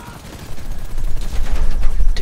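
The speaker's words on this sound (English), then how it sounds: "I'm shooting." Gunfire in GTA V Online, a loud close burst of rapid shots building after a quiet start and rattling on steadily to the end.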